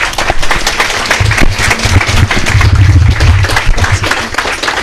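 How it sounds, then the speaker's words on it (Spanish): Church congregation clapping hands in rhythm during a worship service, loud and sustained, with a low musical or vocal drone underneath. "vamos a glorificar a Cristo con nuestras palmas, hermanos."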